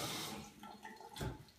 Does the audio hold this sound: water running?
yes